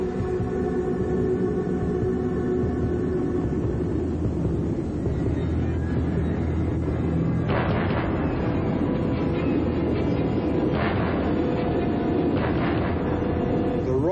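A tornado's loud, steady rumbling roar fills the whole stretch, with a continuous low drone and occasional swelling surges, like a train passing.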